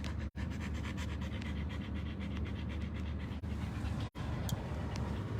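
A dog pants steadily and close by in a rapid, continuous rhythm of breaths, with two brief pauses and no talking.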